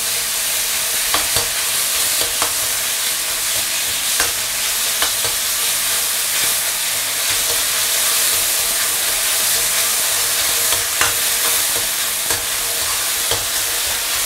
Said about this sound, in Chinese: 下入肉丝，还是最大的火，最大的火， 快速给它炒散